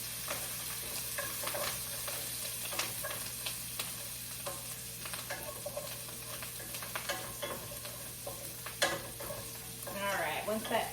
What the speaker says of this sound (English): And I'm gonna let that sizzle up a little bit.